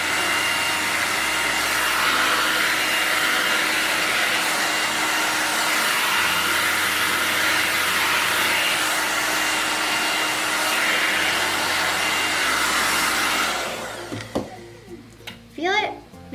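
A blow dryer drying hair on a round brush roars steadily and loudly for about fourteen seconds, then cuts off, leaving softer handling noises and a voice near the end.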